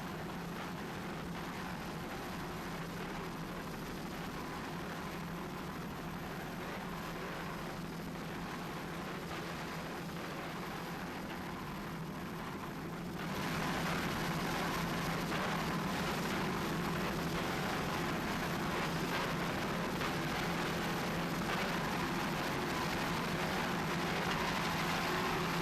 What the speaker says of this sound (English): Obsession, powered by two 600 horsepower MRD inboards